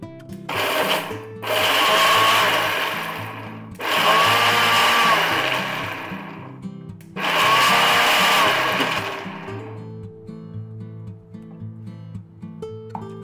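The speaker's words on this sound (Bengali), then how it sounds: "বাকি মাখনাটাও গুঁড়ো করে নেব।" A kitchen mixer grinder powders fox nuts (makhana) in three loud whirring bursts of a few seconds each, separated by short pauses, with a faint steady hum under the quieter stretches and no talking.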